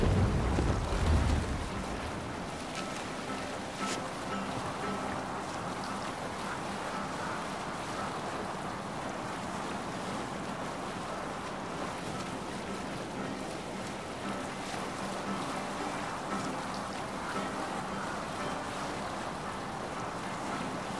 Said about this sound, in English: Good sailing wind here, Eivor.